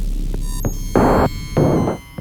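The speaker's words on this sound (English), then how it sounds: "we started off by using the Moog DFAM and the Arturia Mini Freak," A Moog DFAM drum synthesizer and an Arturia MiniFreak synthesizer play together: sustained electronic tones under two broad, noisy bursts and a few short percussive hits, loud and close.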